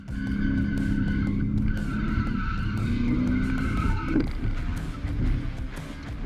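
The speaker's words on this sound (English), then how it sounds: "this is how you're supposed to practice your drifting, at the track" A 1999 Subaru Forester drifts on a racetrack, its loud engine roaring steadily while tires skid and squeal in long sustained smears, close and continuous throughout.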